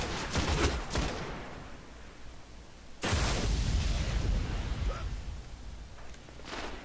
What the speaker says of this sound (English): Just hit me with that charge rifle.